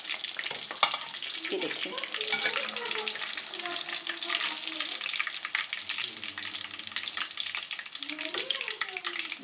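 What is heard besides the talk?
fish frying in ghee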